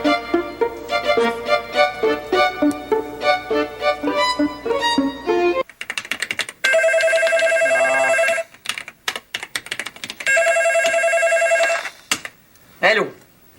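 A telephone rings in a French-language TV drama scene, with two long, loud electronic ring bursts cutting in after a stretch of plinking music and typing-like taps, then a brief voice right after.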